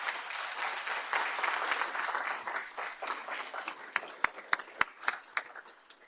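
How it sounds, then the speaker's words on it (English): A conference audience applauds a security panel with a dense, steady wash of clapping that thins out toward the end, leaving a few sharp, isolated claps. "Can we have a round of applause, please, for our panelists?"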